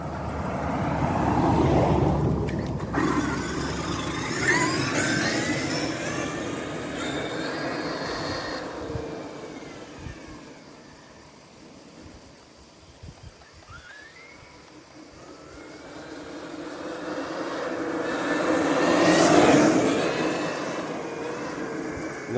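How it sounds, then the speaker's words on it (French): A Traxxas X-Maxx RC car's electric motor whines as it passes, rising and fading at a distance and then swelling close again, with no talk. "Vous entendez le bruit du moteur?"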